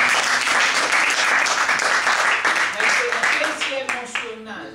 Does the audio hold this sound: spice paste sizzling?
no